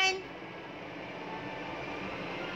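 A train in the video game Human Fall Flat rumbles as a steady, moderately quiet roar after a brief sharper onset, continuing evenly throughout with no talk over it.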